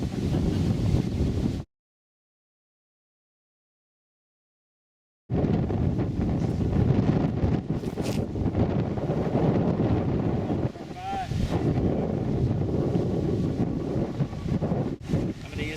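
Wind blows across the microphone outdoors at a disc golf course in a park, a loud rumbling buffet that cuts out briefly and then returns and continues throughout.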